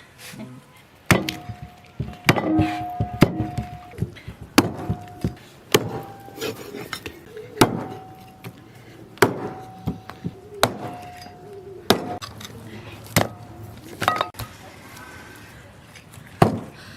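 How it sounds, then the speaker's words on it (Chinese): Heavy cleaver blows thud and crack against beef rib bones on a wooden board, irregularly spaced strikes coming close and loud, with short pauses between chops. "现在把牛排先剁一下。"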